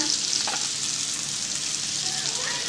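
Spices and red chili powder frying in a pan over a low gas flame, giving a steady, even sizzle with faint stirring scrapes throughout.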